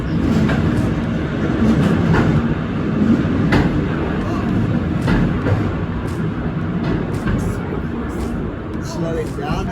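Steep railway carriage descending through a cave in the Blue Mountains, a loud steady rumble of wheels and rails with faint clicking, continuous throughout, with people talking over the noise.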